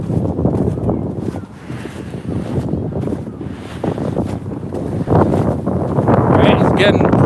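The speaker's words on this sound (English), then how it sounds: "it's getting pretty windy" Strong wind buffets the microphone outdoors in a continuous rumbling roar that swells and gusts harder toward the end, with faint voices underneath.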